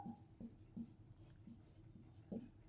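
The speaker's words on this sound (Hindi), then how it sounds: "तो हम लिखेंगे" Handwriting on paper while working through a maths solution, quiet repeated scratching strokes with short pauses between them, close and soft, no voices.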